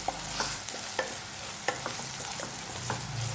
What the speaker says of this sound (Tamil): இப்போது இதில் 1 டேபிள் ஸ்பூன் இஞ்சி பூண்டு பேஸ்ட்டு போட்டு நல்லா வதக்கிக்கோங்க